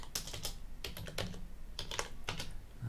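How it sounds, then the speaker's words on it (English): Typing on a computer keyboard: quick close-up bursts of key clicks in uneven clusters over about three seconds, quiet and alone with no voices. "So I'm gonna type everything, sudo hard code"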